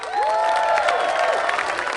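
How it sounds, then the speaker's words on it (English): Crowd applause and cheering for boxers at a fight-card event in Omaha, a short burst of clapping with shouts and voices rising over it. "Let's give them a round of applause as I say their name."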